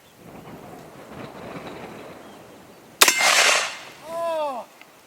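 A Ruger No. 1 rifle chambered in .375 Ruger fires a single sharp, loud shot outdoors. Wind rumbles behind it, a short rushing tail follows, and a brief voice comes after.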